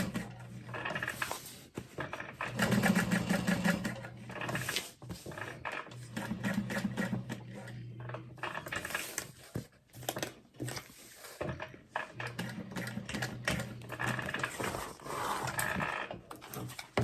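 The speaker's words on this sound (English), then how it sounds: "just sew around that outside edge" A sewing machine stitches around the outside edge of a fabric tote in rapid bursts, stopping and starting several times with short pauses, close and clear.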